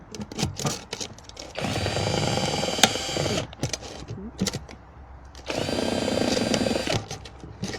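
Holes being made in a clear plastic container with a power tool, two sustained whirring bursts separated by clicks and handling knocks, close and fairly loud.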